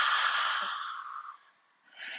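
A forceful open-mouthed lion's breath exhale during a yoga class, a long breathy rush that slowly fades, followed by a short quieter breath, close and alone.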